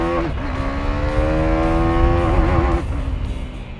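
A 2017 KTM Duke 390 motorcycle engine revs up nearby, its tone climbing and holding for a couple of seconds before dropping back, loud and alone without speech.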